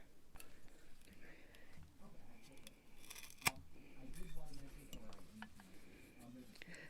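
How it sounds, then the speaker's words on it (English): Scissors cutting a piece at a 45-degree angle for a handmade doll table, a few quiet close snips and small handling clicks under soft talking. "I'm just going to turn it around and cut it at a 45-degree angle the other way."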